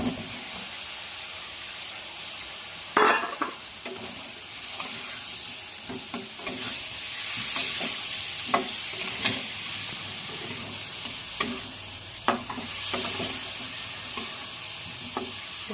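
Potatoes sizzle steadily in a hot pan while a spoon stirs them through egg biryani preparation, with sharp scraping clicks and knocks over the continuous frying hiss, close and moderately loud.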